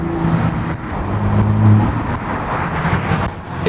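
A Toyota Supra with a modified exhaust revving, a rough low engine rumble that swells and falls over a few seconds, partly buried under heavy wind buffeting, with no speech.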